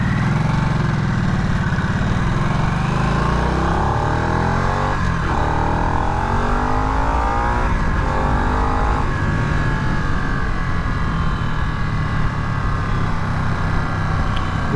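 A Harley-Davidson Nightster 975 cruiser motorcycle engine roars and climbs in pitch as it accelerates, with repeated rising sweeps of revving, loud and close.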